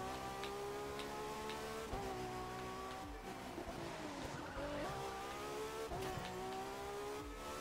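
A Ferrari FXXK in The Crew 2 is heard as a continuous engine roar with shifting pitch and gear changes, plus brief tyre skids, fairly quiet and with no talking.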